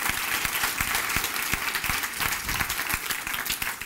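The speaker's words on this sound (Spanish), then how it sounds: "Dele ese fuerte aplauso al Rey de Reyes" A church congregation claps loudly and continuously, a dense, close roar of many hands with sharp individual claps standing out from start to end.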